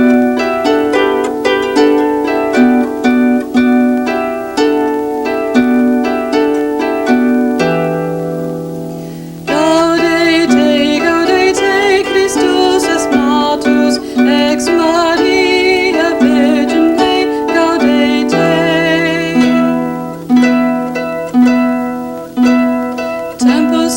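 Harp plucked in arpeggiated patterns alongside a singing voice, the voice entering partway through over the plucked strings; both close and fairly loud, with the voice dropping out again near the end.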